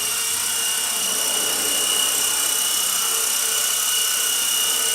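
A Blade 120 S2 radio-controlled helicopter flies continuously, its high whining rotor and motor drone steady and loud throughout with no talking.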